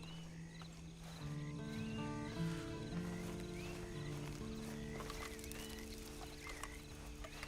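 A horse in the video game Red Dead Redemption 2 clip-clops and snorts in the foreground, while sustained musical tones play underneath.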